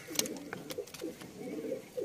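A Sinni Fulsira pigeon coos softly and repeatedly at close range in a quiet setting, each low throaty call rising and falling.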